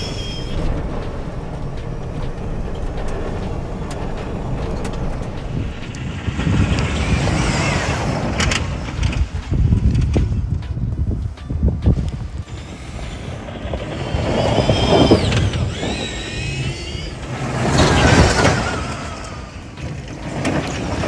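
An electric Polaris RZR XP4 1000 side-by-side, converted to full electric power, drives hard with a steady, loud rush of motor whine, tire noise and wind that surges and fades with swerves and acceleration.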